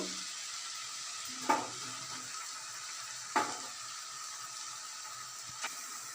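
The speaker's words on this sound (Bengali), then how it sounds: "এবারে আমি এর মধ্যে বাঁধাকপিটা দিয়ে দেবো।" Cabbage goes into a pan of fried spices and softened tomato, giving a steady soft sizzle and hiss broken by three sharp clinks of a utensil against the pan, with no voices.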